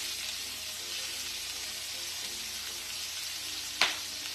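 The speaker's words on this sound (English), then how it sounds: "Whoa, that will happen because you're frying, and I have water in my hands." Coconut chicken frying in a pan, a steady close hiss of sizzling oil throughout, broken near the end by one sharp, loud pop as water splatters into the hot fat.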